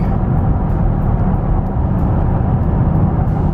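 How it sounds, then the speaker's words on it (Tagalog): Morning road traffic in the UK rumbles past as a constant low, dense roar of passing cars, loud and near, with no talk. "It's traffic."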